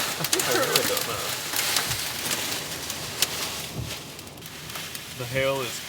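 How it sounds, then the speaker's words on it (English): Hail and heavy rain batter a vehicle during a storm with a tornado nearby, a dense, constant roar of hard hits, with a person briefly talking near the end. "The hail is currently going sideways."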